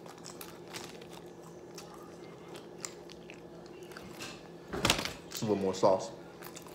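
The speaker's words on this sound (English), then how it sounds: "So now I'm just eating." Someone biting and chewing a Taco Bell burrito up close, with wet crunching and squishing bursts near the end, after a short line of talk.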